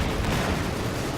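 Mortar fire in a video game, heard as a dense, continuous rumble of booming gunfire with no clear gaps between shots, loud and close throughout.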